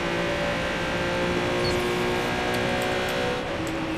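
Car engine in Watch Dogs 2, a fast car held at a loud steady rev with a tonal whine throughout and a few faint clicks and tire noises near the end.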